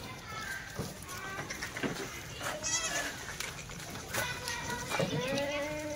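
Kathiawadi goats bleat several times, nasal and wavering, amid barnyard noise with people talking nearby.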